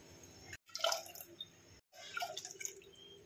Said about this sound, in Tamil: இப்போ எந்த கப்பால் பாசிப்பருப்பு எடுத்தோமோ அதே கப்பால் 3 கப்பு தண்ணி ஊற்றிக்கிறேன்.